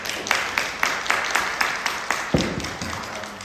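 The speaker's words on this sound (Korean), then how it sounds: "박수로 환영해 주시기 바랍니다." A church congregation claps during a Sunday worship service at a Korean church, a moderate, evenly paced round of applause with distinct individual claps and a few louder slaps near the end.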